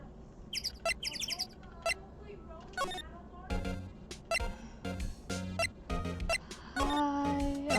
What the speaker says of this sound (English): I don't want to hear the birds again.